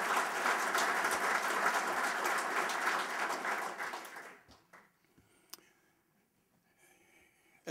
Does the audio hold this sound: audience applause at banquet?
yes